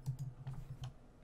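Computer keyboard keys tapped in a quick, uneven burst of soft clicks during a Call of Duty Black Ops III zombies session, close and fairly quiet with no talk.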